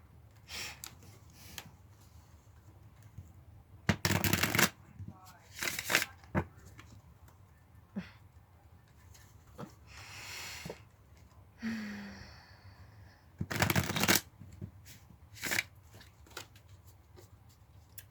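A deck of tarot cards is shuffled up close in several quick, riffling bursts separated by quiet pauses, with soft handling rustles and a brief breathy sound between them.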